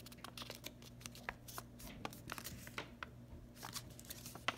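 Paper being folded by hand into an origami bookmark, a run of quiet crisp creases and crinkles coming close up in irregular bursts, with no one speaking.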